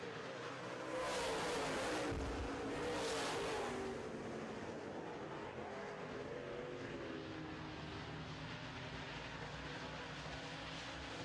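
Late model stock cars roar past in a heat race on a short oval, a loud continuous engine drone with two brief surges as cars pass close, then a steady, slightly more distant growl of the pack.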